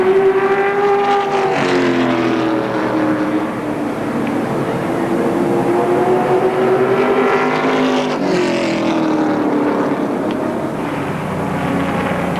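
Race cars at Motordrome Speedway roar past the checkered flag at the end of a race, loud overlapping engine drones rising and falling in pitch as they pass close by.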